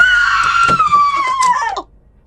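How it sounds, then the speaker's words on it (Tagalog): A woman screams in a Tagalog horror audio drama: one loud, drawn-out cry of just under two seconds whose pitch sags toward the end before it cuts off into near silence. "Bakit sumisigaw si Alona?"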